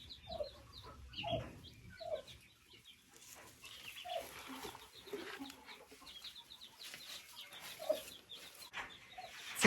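Chickens and chicks cluck and peep repeatedly in a hot farmyard, a string of short nearby calls scattered across a quiet background.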